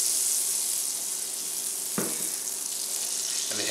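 Butter melting and sizzling in a 16-inch Presto electric skillet, a steady soft frying hiss throughout with a couple of brief clinks or scrapes.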